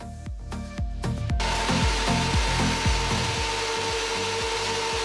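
A thickness planer feeding an end grain cutting board made from wine barrel staves, a loud steady machine whir with repeated heavy knocking thumps as the blocks catch, close and with no talk.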